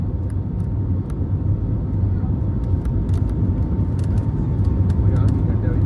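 Airplane landing at Delhi airport heard from inside the cabin, a loud steady engine rumble and roar throughout, with a person talking over it.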